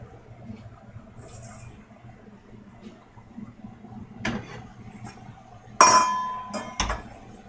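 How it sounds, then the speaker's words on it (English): Metal utensil clinking against a pan while cooked pork wonton filling is lifted out, a few sharp clinks and scrapes near the end over quiet kitchen background. "we're going to pull this out of the pan."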